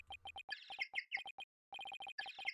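A chirpy electronic phone ringtone with rapid bird-like tweets in quick bursts, a short pause, then the pattern repeats, in the video game Ace Attorney: Dual Destinies.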